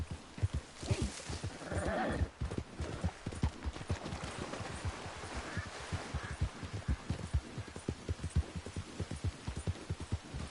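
Horse hooves clip-clop steadily in the Red Dead Redemption 2 video game, close and rhythmic, with a whinny near the start and a loud snort around two seconds in.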